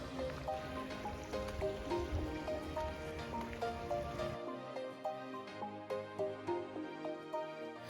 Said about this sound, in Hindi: बारिश तेज हो रही है।